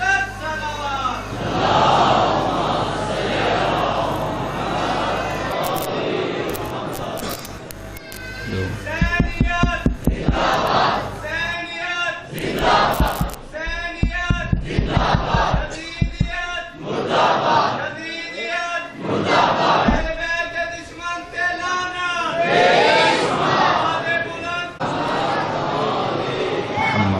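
Large crowd at a majlis chanting religious slogans and reciting salawat in loud, rhythmic bursts of massed voices, with a leader's calls between them over a steady hum from the hall.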